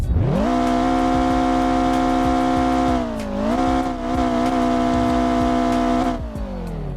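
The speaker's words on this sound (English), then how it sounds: "There's the rev." A car engine in the Roblox game SWFL revs up and holds a steady high drone, dips briefly, then climbs again before easing off, loud and close with a synthetic, game-like tone.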